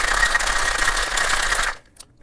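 A cocktail shaker packed with ice, rum, syrup and lime juice for a ginger daiquiri, rattled hard in a loud, dense, rapid stream of clattering ice that stops abruptly, followed by a couple of faint knocks.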